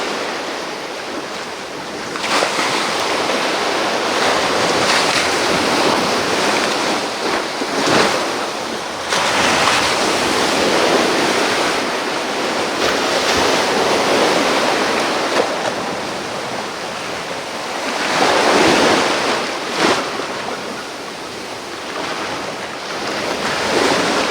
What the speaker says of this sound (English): I'm butchering this whole thing with this ocean sound, maybe